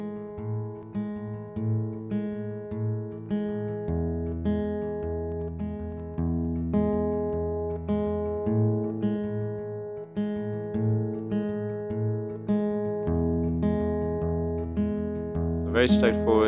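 An acoustic guitar plays a steady fingerpicking pattern for the worship song You Are the Potter, with alternating bass notes under ringing plucked chords, close and clear with no talking.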